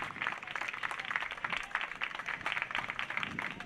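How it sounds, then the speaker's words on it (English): Fans from both sides applaud an injured player at a men's college lacrosse game, a steady, moderately distant crowd clapping that holds throughout. "The fans from both sides clapping for him."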